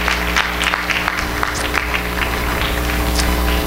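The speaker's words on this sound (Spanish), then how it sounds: "Denle otro aplauso al cielo" Steady church congregation applause fills the space, a dense, continuous wash of clapping at moderate distance with a few scattered cheers rising above it, no voice standing out.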